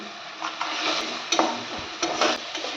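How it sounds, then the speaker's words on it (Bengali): A spiced lentil filling for dal puri, with turmeric, fried spice mix and salt, is stirred in a pan, producing scraping and scuffing strokes with a few sharper scrapes over a faint sizzle, close and steady with no talk. "এবার একটু নাড়াচাড়া করে নেব।"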